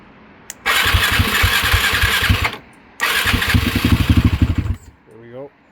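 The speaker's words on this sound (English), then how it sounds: "Might have to give it a bit of gas." A 2008 Suzuki LTR ATV engine cranks and catches, revving in two loud bursts of throttle a few seconds long with a short pause between, close by, then a voice speaks briefly as it dies down.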